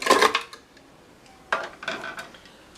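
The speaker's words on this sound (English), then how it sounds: "So we're going to throw that into our blender cup." Frozen strawberries clatter into a blender cup in a couple of quick bursts, with a brief pause between drops.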